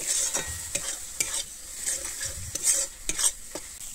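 Cauliflower pieces with Kashmiri chili powder are stirred in a hot pan, a utensil scraping and clinking in irregular strokes over a soft, steady sizzle, close up and with no talking.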